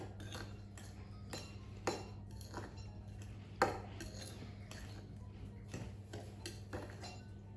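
A knife stirs bean burger mixture in a bowl, making light clinks and taps against the dish that come irregularly and quietly over a low steady hum.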